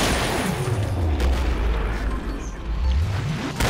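Heavy booming shots from the video game Killing Floor, two deep, loud blasts with rumbling low-end tails, one near the start and one near the end, with no talk over them.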